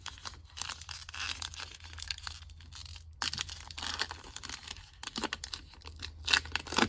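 Foil wrapper of a 2023 Topps Heritage High Number baseball card pack crinkles and tears open up close, in quiet bursts of crisp ripping and crumpling separated by short pauses.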